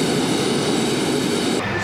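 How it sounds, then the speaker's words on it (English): Jet aircraft engine running on the ground and being throttled up, a steady loud roar with broadband whine, close and continuous with no voices. "Give it a little more gas to help the engine come up to speed quicker."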